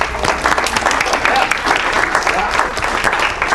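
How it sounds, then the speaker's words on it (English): An audience at a real estate sales training talk fills the room with dense, steady clapping that holds at an even level from start to finish, close and loud with no voices over it. "Round of applause, please."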